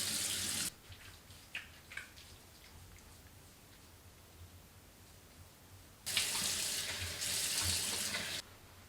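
Water runs from a tap into a bathroom sink during face washing, a loud splashing flow at the start, then quieter dripping and rinsing sounds, before the tap gushes strongly again near the end.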